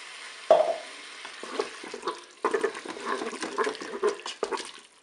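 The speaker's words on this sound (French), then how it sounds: "Maintenant, on va rajouter 200 ml d'eau." Water poured into a Cookeo multicooker pot over browned beef and courgette for lasagna, a soft splashing pour beginning abruptly and continuing with gentle bubbling and stirring sounds, close and fairly quiet.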